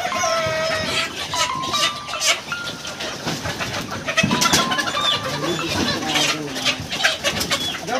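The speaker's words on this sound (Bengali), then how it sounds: "তো এখানে অনেক মুরগ বেঁধে রেখেছে" Sonali chickens on a poultry farm, being caught and bagged for weighing, cluck and squawk close by in overlapping bursts, with scattered bird calls and thuds and faint voices in the background.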